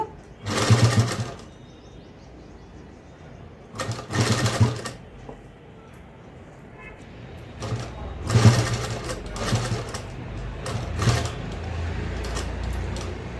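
A domestic sewing machine stitches a blouse jacket in bursts, with several loud whirring runs separated by pauses and quieter handling.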